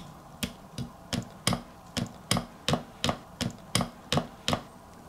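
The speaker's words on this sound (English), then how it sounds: "Using hammer to help split pin go through." A hammer taps a split pin into the handbrake hinge of a Jaguar XJS: about a dozen evenly paced, sharp metallic knocks, close and clear, with no talk.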